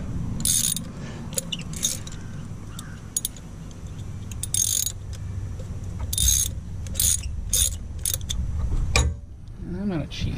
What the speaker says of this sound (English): So I'm just snugging it because it needs to be torqued to 132 inch-pounds